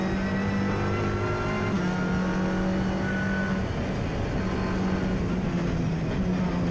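A BMW race car on the Oulton Park circuit gives a steady engine drone at moderate distance, holding a fairly even pitch with slight shifts as it runs, continuous and without speech.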